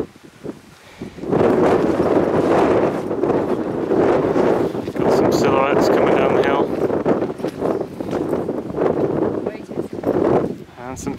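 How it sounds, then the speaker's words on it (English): Wind gusting across a rocky tor hilltop on Dartmoor at dusk, a steady loud rumble buffeting the microphone with rising and falling surges throughout. "Wind's picking up a bit."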